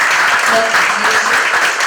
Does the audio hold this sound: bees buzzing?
no